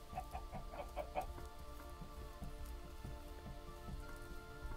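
Roosters in the TerraFirmaCraft video game cluck in a quick burst of short repeated calls, then fall away under a steady game ambience with faint rain-like patter and a tonal drone.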